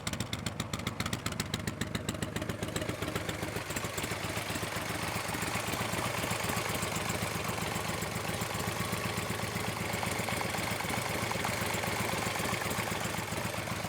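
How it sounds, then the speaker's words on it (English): A 2010 Harley-Davidson Ultra with a Screamin' Eagle 120R engine, Cobra headers and stock pipes, idles close by with a steady, lumpy, loping beat for the whole stretch, no voices over it. "this is a video of my 2010 Ultra with the 120R."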